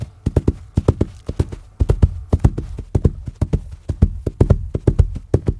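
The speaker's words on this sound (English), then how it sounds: "The sound of a small dinosaur running away." Foley footsteps for a small dinosaur running away: a rapid, steady patter of hard, hoof-like clip-clop strikes, close and fairly loud, continuing without pause and heard alone.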